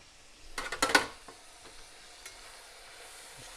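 Squirrel meat stirred in hot grease in a pan for sauce piquante, a short cluster of scraping, clattering strokes near the start with a faint sizzle continuing quietly afterward.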